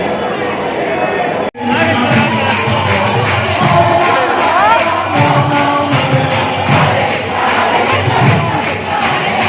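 Dense festival crowd at Radha Ashtami in ISKCON Vrindavan, a loud continuous roar of voices, chatter and shouting that cuts in abruptly after a brief quieter opening and stays full and close throughout.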